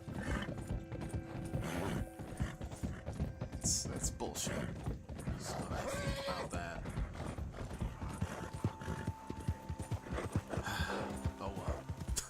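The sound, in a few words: horse hooves galloping in a video game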